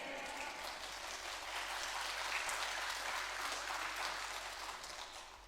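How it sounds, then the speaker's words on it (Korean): A church congregation claps together during a worship service, a moderately loud, steady wash of applause with a low constant hum underneath. "이제는 박수까지 치면서 아멘 했어요"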